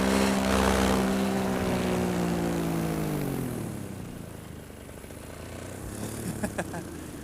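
Propeller aircraft, likely a small drone or plane, flies through a steel bridge, its steady harmonic engine whine dropping in pitch as it passes and fades, with faint clicks near the end.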